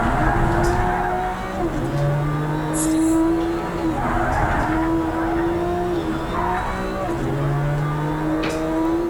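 A race car in Project Cars 3 drives through tight corners with a steady droning engine, repeated rising tire squeals on each bend and faint talk underneath.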